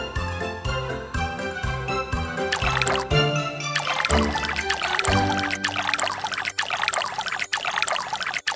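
Cartoon water pours and trickles steadily in a Pororo dentist video game as a mouth is rinsed, running continuously with bright game music underneath.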